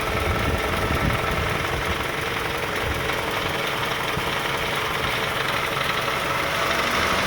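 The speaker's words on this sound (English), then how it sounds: "The cooling fan is on. And when the cooling fan is on, it really shakes." Engine of a 2002–2006 Toyota Camry running with the AC cooling fan on, a steady close rumble with rough, shaking vibration and fan whoosh throughout, no talking.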